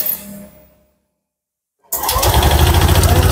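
After a second of silence, a small engine is started for a coolant leak test and settles into a loud, steady, rapidly pulsing idle.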